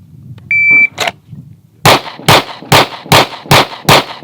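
Pistol fired during a lateral bill drill shooting exercise: a shot timer beep, then six sharp, loud, evenly spaced gunshots ringing out in quick succession.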